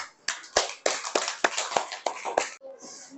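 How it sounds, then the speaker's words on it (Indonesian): A short round of rhythmic handclaps from a small group of children in a classroom, about nine evenly spaced sharp claps, ending abruptly. "Tepuk tangan."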